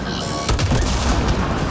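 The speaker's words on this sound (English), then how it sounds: "Explosion." A sudden heavy boom from an explosion in the video game Mass Effect Andromeda bursts in after a short stretch of noisy combat, then trails off into rough, crackling rumble.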